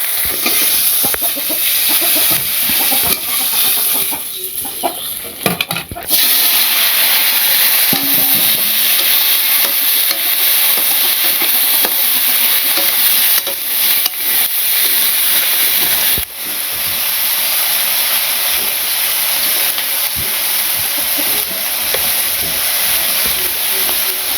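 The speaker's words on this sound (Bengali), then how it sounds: "সব মশলা কষিয়ে নিই" Spices being sautéed in a pan right after fish has been fried, for a Bengali fish curry; a steady, loud hiss and sizzle runs throughout, with a brief shift partway and a sharp break near the end.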